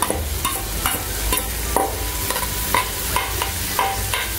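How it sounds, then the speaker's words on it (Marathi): Dried shrimp stirred into hot oil and masala in a pan, a steady crackling sizzle throughout with rhythmic scraping strokes of a spatula about twice a second, close and continuous. "तो जवळा आपल्याला घालायचा आणि जवळा त्या तेलामध्ये, त्या मसाल्यामध्ये चांगलं परतून घ्यायचा आहे"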